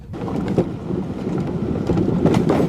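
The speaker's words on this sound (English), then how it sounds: "Dozens of rattling noises from inside the interior that I have never at any point heard before" A 2006 Range Rover crawls over rocky off-road terrain, its interior clattering and rattling in irregular bursts over a rough, wind-like rumble that swells and dips throughout.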